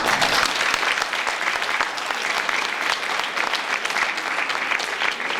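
A round of applause at a 2016 college awards ceremony, dense steady clapping from a hall audience that holds evenly throughout with no voices over it.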